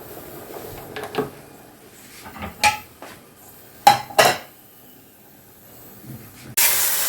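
A steel wok clanks and scrapes under a spatula in a few separate sharp strokes, with a soft background hiss of cooking, then a loud steady sizzle surges up at the end.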